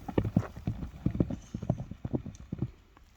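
A horse's hooves walk close by in a steady clip-clop, the horse led on foot to show its gait at a sale, with a faint whinny-like sound in the background and no talk.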